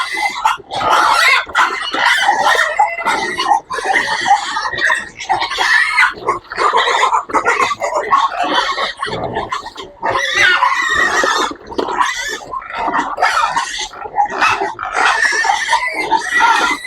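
Pigs and piglets in a pen, grunting and squealing loudly and almost continuously in overlapping bursts, close by and busy throughout.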